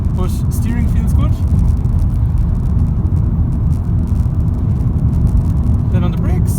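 A 1.2 litre VW Golf TSI hatchback drives on a wet back road, its engine a steady low rumble with tyre hiss from the damp surface as it shifts up through the gears, while someone talks over it.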